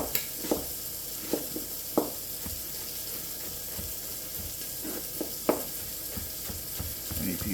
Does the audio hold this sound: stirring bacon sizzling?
yes